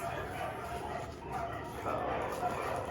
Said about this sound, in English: Two dogs, one toy. They're gonna play with it and fight over it.